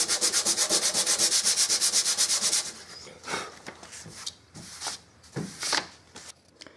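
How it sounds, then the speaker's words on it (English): Sandpaper rasps over a dented car panel, taking paint down to bare metal: a fast, even run of close scraping strokes, then slower, irregular strokes alone. "Your main objective is to sand down bare metal."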